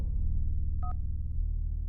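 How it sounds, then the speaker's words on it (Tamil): A telephone in a Tamil film scene gives one short electronic double-pulse ring midway through, fairly clear over a steady low background hum, with no talking. "Sir phone."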